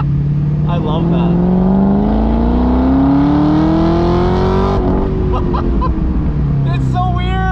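A 500 hp V8-swapped Mazda Miata accelerates hard, its engine note rising steadily in pitch through a long pull, then briefly easing and climbing again, loud and close, while people talk and laugh over it.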